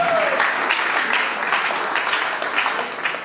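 Artists in an audience at a Congolese honoring ceremony applaud steadily for several seconds, a dense, loud wash of clapping with no talking.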